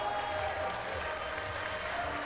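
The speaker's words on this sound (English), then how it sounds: "The crowd's cheering her on here" Gymnastics crowd at a Denver versus Ohio State meet applauding and cheering steadily, a dense continuous wash of clapping and voices filling the arena for a few seconds.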